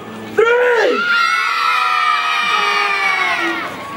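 A crowd of townsfolk at Warwick Castle bursts into loud cheering and high-pitched screaming, a sustained roar of many children's and adults' voices lasting several seconds.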